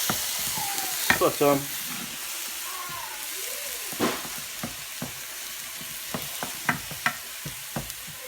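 Liquid poured into a hot pot for an orange and cinnamon stew sizzles and hisses steadily while a spoon knocks and scrapes the bottom in short bursts. A voice speaks briefly over it.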